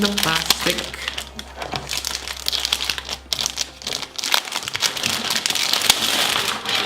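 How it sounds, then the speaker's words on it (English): Plastic wrapping crinkles and crackles as it is peeled off a Razer Cynosa Chroma keyboard during unboxing, a busy close-up rustling that continues steadily throughout. "let's continue here by removing the plastic"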